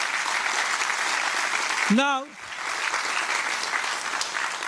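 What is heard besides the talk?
audience applause at a Bharatanatyam arangetram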